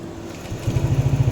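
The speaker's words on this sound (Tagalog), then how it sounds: "Ganda ng tunog ng motor mo yan, no? Ganda tunog niya, tahimik." A Sym DRG scooter engine, tested after gasket maker was applied, idles quietly up close, then settles into a steady, smooth low putter from about two-thirds in.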